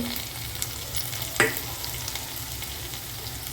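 Steady, soft sizzling of tomatoes and ground spices (turmeric, chili, coriander, garam masala) sautéing in oil for mushroom gravy, with a faint clink of a utensil stirring the pan partway through.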